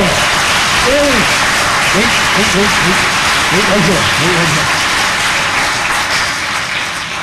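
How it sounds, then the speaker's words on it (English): Audience clapping at a Saint Nicholas church gathering after a mummer's play, a dense, steady wash of applause lasting throughout, with a few spoken words and calls over it. "Give them a round of applause."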